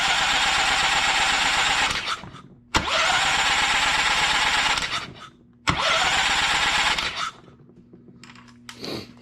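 A Honda GX390 small engine cranks on its electric starter in three long bursts, each a rapid, rattling churn starting with a sharp clack, with short pauses between and a quieter mechanical hum at the end.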